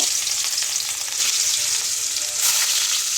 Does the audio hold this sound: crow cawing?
no